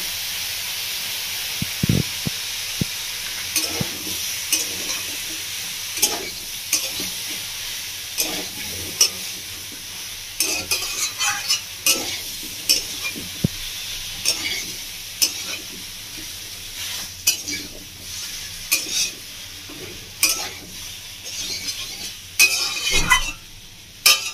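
Mixed vegetables with drumsticks fry with salt and a paste of ginger, black pepper and green chili, a soft constant sizzle broken by repeated clinking, scraping stirs of a spoon against the pan, close and without talk.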